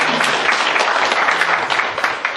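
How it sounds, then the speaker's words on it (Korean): An audience at an academic unification forum gives warm applause, a dense, steady burst of many hands clapping at once that holds throughout. "뜨거운 박수 한번 드리죠."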